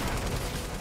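Dense, loud gunfire in Fortnite, a continuous stream of rapid shots filling the whole short moment with no talking.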